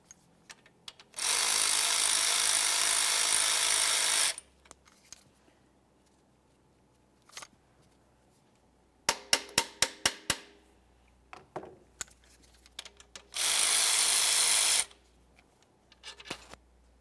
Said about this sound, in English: we're going to go ahead and fully remove this 13mm headed bolt